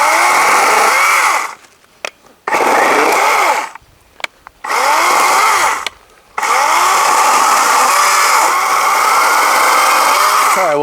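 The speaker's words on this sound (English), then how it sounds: "I've got the chainsaw, I've added some bar and chain oil to it" A Wild Badger 40V electric chainsaw cutting through a peach tree, loud and close, running in three bursts separated by short pauses and then one long continuous cut, its whine rising and falling as the chain bites the wood.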